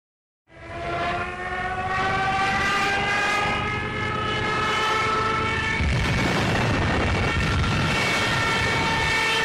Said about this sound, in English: that iconic dive bombing sound that you hear, those are the Jericho trumpets